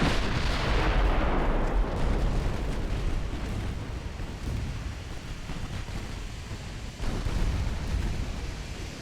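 Naval gunfire from 6.9-inch guns in the warship game Ultimate Admiral: Dreadnoughts, a heavy booming blast that rolls into a long rumbling barrage with further distant thuds, loud and continuous.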